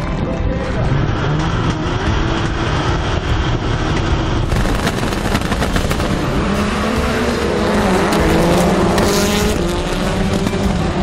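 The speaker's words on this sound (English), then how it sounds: "Two turns into the race, and Sverre sits in 4th." Rallycross race cars roar past on a track in Barbados, loud, continuous engine noise with revving and passing surges throughout, and commentary faintly beneath.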